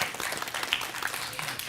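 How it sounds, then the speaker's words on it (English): A crowd applauds the class valedictorian at a secondary school graduation ceremony, giving a steady wash of clapping from an audience at moderate distance. "Let's give her one more round of applause"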